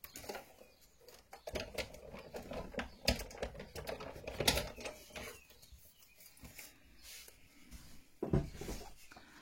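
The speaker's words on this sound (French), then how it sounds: "Alors, je vais découper vite fait." Small paper fir trees being cut out for a handmade card, quick close snipping and rustling paper sounds in an irregular run, fairly soft.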